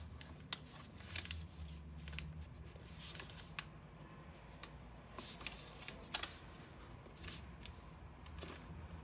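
Paper is folded and creased for an origami mother-and-child model, with soft crisp taps and short rustles scattered irregularly, close and quiet.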